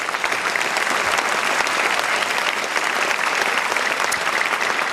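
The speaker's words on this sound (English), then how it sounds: "Yes, round of applause." A film festival audience applauds a keynote speaker, an associate professor, with loud, sustained, dense clapping from a large crowd that holds steady throughout.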